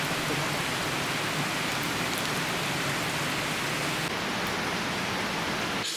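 Steady, dense rain hissing continuously on a mountain hiking trail, a broad even wash of sound with no voices, ending in a brief rustle.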